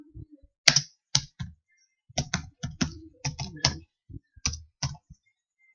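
Someone types text onto a PowerPoint slide on a computer keyboard, producing irregular bursts of crisp, close key clicks separated by short quiet gaps.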